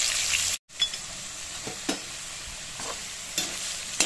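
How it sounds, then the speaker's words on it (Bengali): Potatoes with salt and turmeric frying in oil, giving a bright, continuous sizzle with a brief drop-out near the start and several soft spatula scrapes, close and moderately loud, with no voices. "লবণ আর হলুদ দিয়ে আলুগুলোকে ভাজতে হবে লাল করে।"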